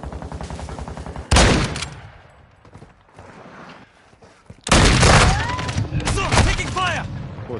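Call of Duty: Modern Warfare II gunfire comes in loud, dense automatic bursts with booming impacts, separated by quieter stretches where voices are heard.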